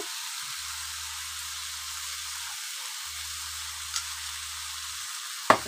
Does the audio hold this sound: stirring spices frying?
yes